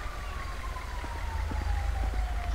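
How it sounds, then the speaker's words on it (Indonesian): Ambulance siren from an emergency vehicle in the GTA V video game, a steady wailing tone sweeping slowly downward as it passes, continuous and fairly loud over a low engine rumble, with no talking. "Ambulan sudah datang"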